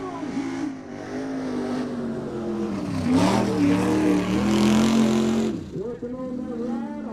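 A mud racing super truck, the Mudcat, powered by a small block Ford engine, roars loudly and revs hard at a mud bog racing event, its pitch climbing and dropping as it charges, while an announcer talks over it.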